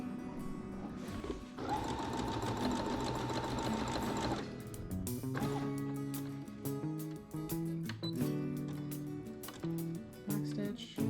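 Brother SE2000 sewing machine stitching a repair on ripped denim jeans: a fast, even mechanical chatter in a burst of about three seconds, then shorter intermittent runs of clicking stitches and handling noise, close up.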